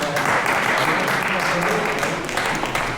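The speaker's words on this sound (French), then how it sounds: "Bravo à tous les bénévoles qui méritent aussi quelques applaudissements." Crowd applause for volunteers at a Paris-Clermont cycling event, a steady, dense clapping that carries loudly throughout with some voices mixed in.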